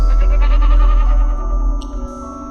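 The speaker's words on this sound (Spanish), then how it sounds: "una cabra hacer sus sonidos normales" A goat gives one loud, close, drawn-out bleat that wavers and fades over about two seconds, with a steady low hum underneath and no talking.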